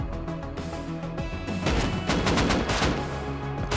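Rapid bursts of gunfire ring out during a base raid in the survival game Rust, dense overlapping shots building into a loud, continuous volley with no talking.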